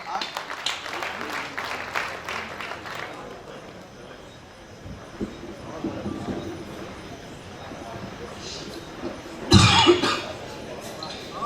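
An audience at a kavi sammelan in Kotma applauds as a poet is welcomed, with a rough wash of clapping and crowd noise over several seconds and a sharp loud burst near the end.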